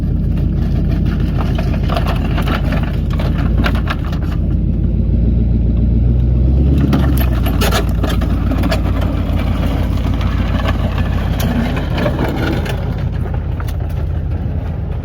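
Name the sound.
Cadillac car engine idling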